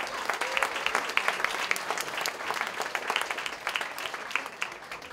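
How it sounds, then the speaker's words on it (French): Lively audience applause for a performer at a cabaret festival evening, dense rapid clapping from a crowd sustained throughout about five seconds. "Une main d'applaudissement pour Louis-Pierre, s'il vous plaît."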